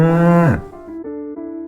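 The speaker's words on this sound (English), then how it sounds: "Which animal is known for its moo sound?" A cow gives a loud, close, drawn-out moo that drops in pitch at the end, followed by softer lowing tones.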